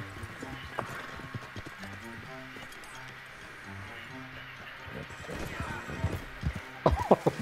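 Horse hooves clip-clopping in the video game Red Dead Online, a steady rhythm of hoofbeats under game ambience with a few louder thuds near the end, while players talk over it.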